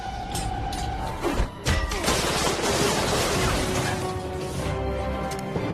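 Gunfire in a film shootout with henchmen of a German villain: dense, loud bursts of shots and crashing impacts run almost without pause through the whole stretch, with a brief dip near the middle.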